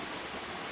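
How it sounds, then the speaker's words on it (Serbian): A river flows beneath a bridge in early spring, its steady, dense rush of water close below and unbroken, with no voices over it. "Reka koja prolazi ispod nas,"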